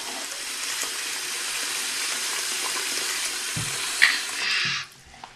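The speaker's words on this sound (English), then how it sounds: "Are you washing your face?" Tap water runs steadily into a bathroom sink as a child washes their face, a close, even hiss with a few splashes and bumps near the end before the flow cuts off.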